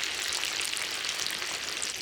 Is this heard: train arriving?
no